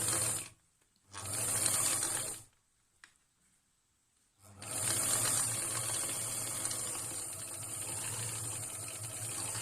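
A sewing machine backstitching fabric for a shaped face mask: a short burst of steady mechanical whirring, a pause with faint clicks, then a longer continuous run of stitching, close and fairly loud.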